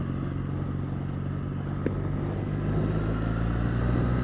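Triumph Bonneville T214 limited-edition naked motorcycle riding, a steady engine drone mixed with wind rush, continuous and fairly even throughout.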